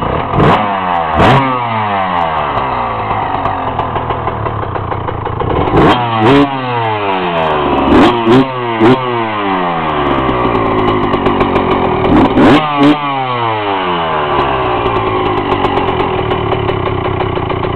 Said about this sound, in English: So we're gonna start up the CR first.